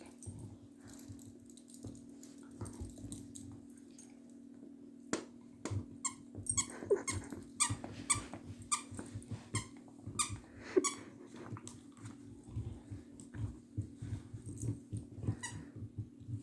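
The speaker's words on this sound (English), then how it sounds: "Oh, Nomi, you got your toy to squeak." A dog chews and bites a squeaky toy, producing repeated irregular squeaks that grow busier over time, with quiet snuffling and thumps in between, heard close up without speech.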